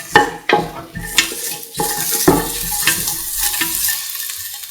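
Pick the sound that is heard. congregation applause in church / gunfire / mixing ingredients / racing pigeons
mixing ingredients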